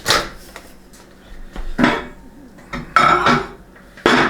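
A dish of soup set into a microwave gives a few clinks and clatters of crockery against the glass turntable, with some soft handling bumps in between, close by and with no voices.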